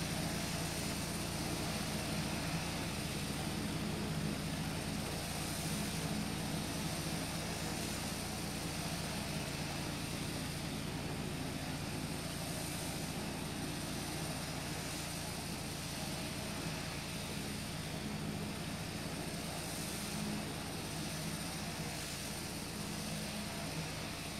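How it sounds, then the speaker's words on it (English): A simulated Beechcraft Bonanza V-tail light aircraft engine and propeller hum as an even, continuous drone throughout, heard from inside the aircraft, steady and unchanging with no voices over it. "here is our aeroplane"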